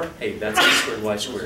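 A sneeze bursts out in a lecture room during a calculus class, a single sharp noisy blast in the middle of the clip, close by, with a man's speech before and after it.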